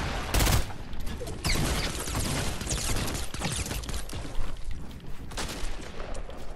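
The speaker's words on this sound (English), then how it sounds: "There's so many shots at us." Video game gunfire, a dense fusillade of rapid shots with a few sharper bursts standing out, continuous and loud throughout.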